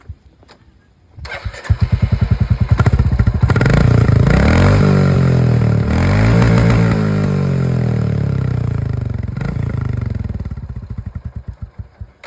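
A stock Royal Enfield Classic 350 motorcycle starts up, settles into a thumping single-cylinder idle, then is revved steadily with a loud, close exhaust note.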